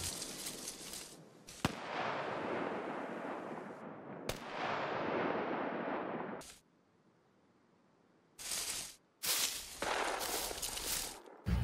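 Loud gunfire bursts in SCUM, PvP multiplayer: heavy broadband shots and sustained rattling fire in long stretches, broken by short silences and a quieter lull, then more sharp close bursts.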